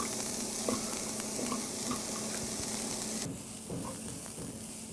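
Cauliflower frying in a little olive oil in a hot cast iron pan gives a steady, close sizzle with scattered pops and crackles. It thins to a quieter hiss partway through.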